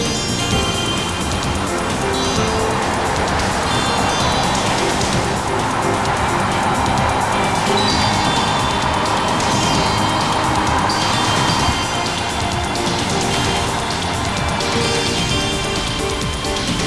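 Ferrari 512M sports car engine roaring at sustained speed, a loud, dense, steady drone with wind and road rush throughout and no talking.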